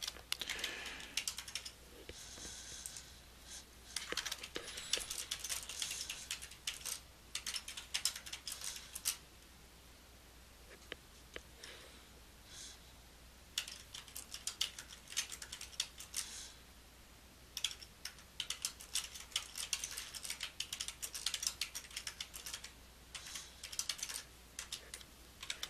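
Rapid, quiet computer keyboard typing of a title in bursts of clicking keystrokes, pausing briefly between runs.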